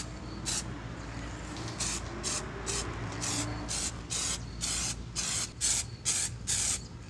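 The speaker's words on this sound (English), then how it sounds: "I got the whole arm all sprayed down" Repeated short bursts of aerosol spray paint hissing close by onto a car trailing arm, over a steady low background hum, with brief pauses between blasts.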